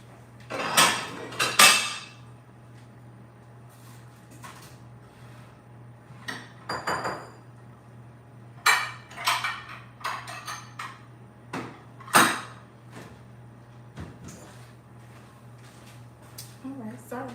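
Mixing bowls and dishes clatter as they are pulled out while baking an eggnog pound cake, a string of sharp clinks and knocks in scattered bursts over a steady low hum.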